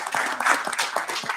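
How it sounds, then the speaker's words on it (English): Applause in a House committee hearing room, a short burst of many hands clapping at a brisk irregular rhythm, fairly loud and close, with no talk. "I just want to recognize them and applaud them"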